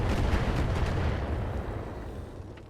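Artillery fire in the RogueTech mech game, a deep sustained rumbling roar of heavy guns that slowly fades, with no voices over it.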